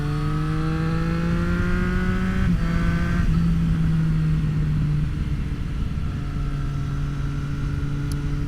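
A 2024 Triumph Street Triple RS engine drones steadily with rising then falling pitch as the bike rides by, a loud continuous rumble that shifts tone midway and settles into a lower hum.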